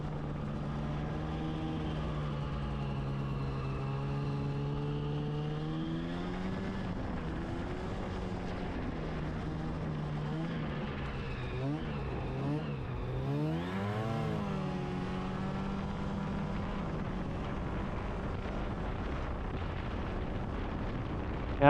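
A nearly new Polaris Catalyst snowmobile engine carrying the rider through deep snow, a continuous loud, close whine that rises and falls in pitch with throttle changes, without any talk.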